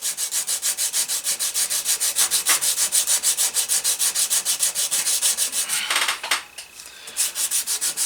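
Steady back-and-forth rubbing of 220-grit sandpaper on a vintage cobbler hammer, smoothing away file scratches over a Poundo board, close and continuous with a brief pause near the end before the strokes resume.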